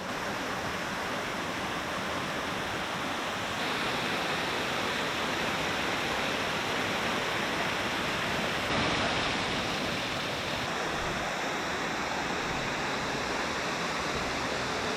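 Thornton Falls on the Ingleton waterfalls trail in North Yorkshire pours steadily, a dense, even roar of falling water heard up close for the whole stretch with no voices over it.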